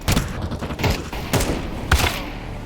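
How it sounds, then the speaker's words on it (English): Sniper and other gunfire in a rainy night Italy map of a video game, several sharp loud shots with booming tails spaced irregularly over a dense background of distant fire. "Oh, and I got sniped."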